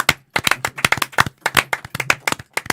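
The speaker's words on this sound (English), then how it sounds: "everybody round of applause for her." Audience applause at a student debutants' event: a few people clap in distinct, sharp bursts with short pauses, close and fairly loud, sounding like a small group.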